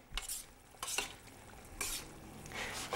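Tomato sauce with fresh basil is stirred in a pan, producing soft, close scraping sweeps about four times over a faint, quiet simmer.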